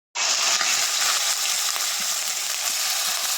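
Finely chopped garlic, two cloves, hits a hot pan and sizzles loudly, a steady bright frying hiss that holds throughout with a few faint clicks.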